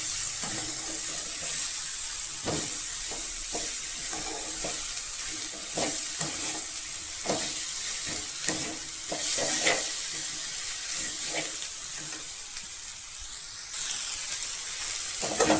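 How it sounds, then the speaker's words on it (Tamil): Mint, betel and curry leaves stirred into radish chutney frying in a pan, with a steady low sizzle and repeated soft scraping stirs close by, no talking. "இதையும் சேர்த்து நல்லா கலந்து விட்டுக்கலாம்."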